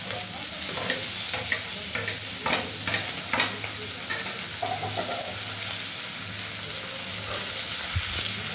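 Chopped onion tipped into hot oil with tempered spices in a pan for red lentil dal, a steady close sizzle with scraping stirs and clinks of the spoon against the pan, no talking.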